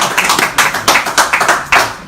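Clapping from a small audience at a talk show with Omoyele Sowore, loud and close, with distinct uneven bursts of hand claps over about two seconds and no talk.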